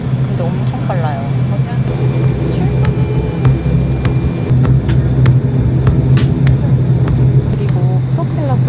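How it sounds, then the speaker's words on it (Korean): A ship's propeller spins right beside the cabin, giving a steady low droning hum under continuous talking, with occasional clicks and knocks. "프로펠러 소리가 엄청 크다고 했거든요"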